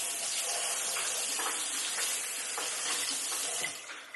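Water runs steadily from a kitchen tap with a splashing, hissing flow and a few brief clatters, ending with a tapering sound near the end.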